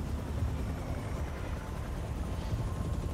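A helicopter in a Spider-Man video game whirs as a faint, steady low rotor rumble with a continuous noisy wash and no talking.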